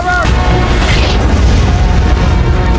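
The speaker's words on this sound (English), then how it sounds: "As the military camp was on the verge of being obliterated by artillery fire, Nina was caught in the explosion." Loud, continuous rumbling boom of artillery fire striking a World War II military camp during a German tank attack, a dense low roar sustained throughout with scattered crackling bursts on top.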